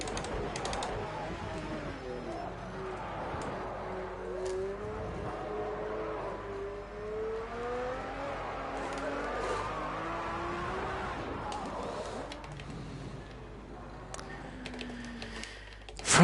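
A race car lapping the Oschersleben circuit, its engine rising and falling through gear changes with faint tire noise, heard at moderate distance from on board across the lap.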